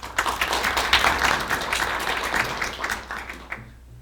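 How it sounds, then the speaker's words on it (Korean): An audience at a science and technology policy forum applauds to welcome a professor as a speaker, dense clapping that swells early and then thins out and fades toward the end. "우리 강연을 맡아주신 이정동 교수님 큰 박수로 모시겠습니다"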